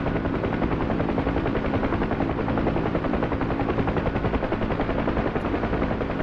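A UH-1 Huey helicopter in flight in the DCS combat flight simulator, with steady loud rotor chop and turbine roar that continues unbroken throughout.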